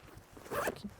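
One quick zip runs along the top zipper of a Condor Outdoor Venture tactical backpack, close and fairly soft, over in under a second in an otherwise quiet space.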